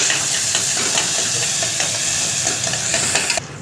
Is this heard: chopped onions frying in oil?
yes